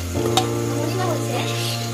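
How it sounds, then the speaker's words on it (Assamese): Onions sizzle steadily in a hot pan, with a stirring scrape near the start and a continuous close frying hiss beneath a low hum. "এতিয়া অকণমান পিঁয়াজটো ভাজা যাব"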